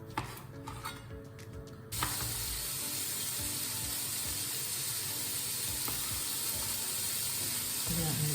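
Bacon frying in a pan gives a steady, bright sizzle. It starts suddenly about two seconds in and then holds at a loud, even hiss to the end, with a few light clatters.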